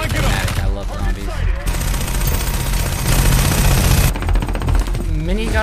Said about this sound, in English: Mini gun on that thing?